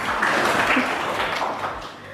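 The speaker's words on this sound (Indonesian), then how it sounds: "tepuk tangan buat kita semua" A school class at the end of a music lesson claps together in a short burst of applause that fades slightly, with some voices mixed in.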